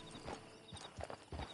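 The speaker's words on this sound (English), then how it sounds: "Get on the horse when you're ready." Horse hooves clip-clop steadily on hard ground in a video game, a close, even walking rhythm of hollow knocks, heard alone and fairly quiet.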